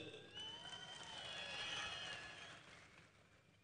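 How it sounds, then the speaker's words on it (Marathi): An audience claps and cheers in a continuous, moderately faint wash of applause that rises toward the middle and eases off near the end. "टाळ्या वाजून काही उपयोग नाहीये."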